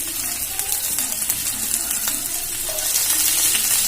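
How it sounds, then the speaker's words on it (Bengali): Chopped green chillies go into cumin seeds frying in hot oil, producing a bright close sizzle and spattering crackle that swells toward the end, with stirring sounds mixed in. "জিরাটা ভাজা হয়ে গেছে, এবারে দিয়ে দেব কাঁচা লঙ্কা কুচি"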